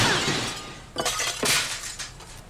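A cartoon sound effect of glass loot nearly smashing: a glassy rattle followed by two sharp, bright crash-clinks about half a second apart, fairly close and heard alone without talk.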